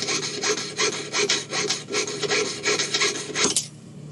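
A small fine saw blade cuts metal in quick back-and-forth strokes, about a dozen rhythmic rasping pulls up close, ending abruptly as the blade snaps, with no talking.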